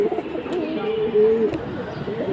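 Flyer pigeons coo in a low, steady rolling murmur close by, continuous through the whole stretch with faint background noise.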